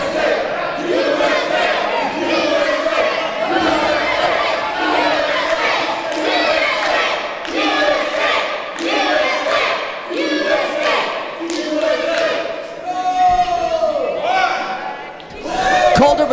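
A wrestling arena crowd cheers and roars continuously for a lucha libre wrestler near a match finish, a dense wash of voices with shouted surges and a rising swell toward the end.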